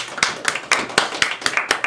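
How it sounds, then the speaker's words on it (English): A few people in a classroom clap after a student's persuasive speech, about nine distinct, close claps in an uneven rhythm, sparse rather than a full crowd. "Let's give him a round of applause."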